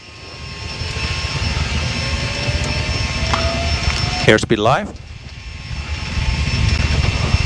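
Twin jet engines of a Learjet 45XR spool to takeoff thrust in a steady, loud roar heard from inside, with a cockpit voice speaking briefly over it and a short burst of radio chatter midway.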